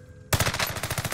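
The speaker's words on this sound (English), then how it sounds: "He's getting shot at by someone." Video game gunfire erupts after a short quiet lead-in, a rapid automatic burst of about nine evenly spaced shots, close and fairly loud.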